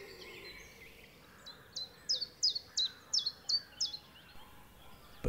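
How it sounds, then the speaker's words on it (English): A chiffchaff warbler sings its simple repeated two-note song, about eight clear chirps in an even rhythm, fairly near and alone over quiet background. "Nearby sits a small, unassuming little warbler, the chiff-chaff."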